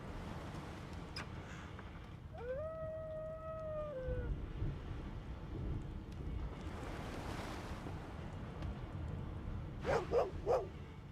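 Dog in the video game Divinity Original Sin II, a couple of short sharp barks near the end over a constant bed of ocean waves and wind, after a drawn-out tonal call earlier.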